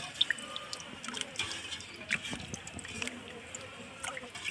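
Fresh fish being washed in water gives off faint, scattered drips and light splashes, quiet and close, with little else around.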